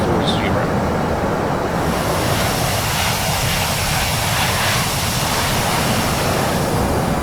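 Airbus A320 jet engines cruise in the Prepar3D flight simulator game, a steady broadband roar and hiss that stays constant and loud throughout with no distinct events.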